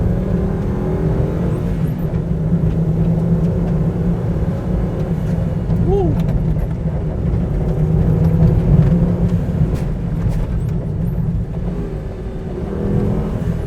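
Volvo S60 Recce rally car with a 2.4 turbo engine, a loud, steady engine drone close by, with a brief rise in pitch near the middle.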